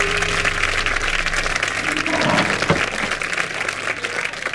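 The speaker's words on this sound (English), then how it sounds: "How about one more round of applause for our guest?" An audience breaks into a short burst of steady applause for the guests, with dense clapping from a room full of people.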